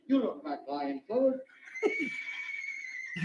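A horse whinnies in an old Three Stooges comedy short, a bright drawn-out neigh following a few spoken words, with more speech resuming at the end.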